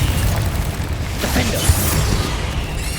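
Confringo fire spell bursts in Hogwarts Legacy, a booming explosion with a sharp hit near the middle, set in a dense, continuous game mix of rumble and effects.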